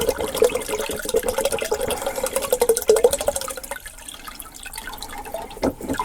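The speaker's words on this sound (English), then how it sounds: "I am moving everything from this vinegar bucket, which you want to let as much vinegar drain out of your pump as possible" Vinegar drains from the pump of an on-demand water heater into a bucket, a steady close trickle and splash of liquid with scattered drips running throughout, easing toward the end.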